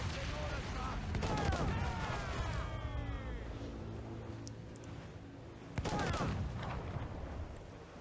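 Naval combat in the video game Assassin's Creed 4: Black Flag, with cannon and mortar fire booming in heavy bursts at the start and again near six seconds over a rumbling, stormy backdrop.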